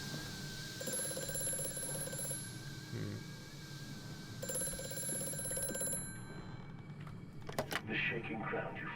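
A ringing telephone in the horror video game Amnesia: A Machine for Pigs sounds in two sustained electronic bursts separated by a pause, set over a low droning game ambience, with some clattering toward the end.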